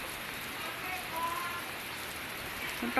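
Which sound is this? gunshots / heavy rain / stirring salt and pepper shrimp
heavy rain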